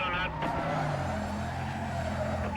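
A Mazda RX-7 FD engine racing in Need for Speed: Most Wanted (2005, PS2), a steady loud engine drone with tire skid noise at the start, running continuously throughout.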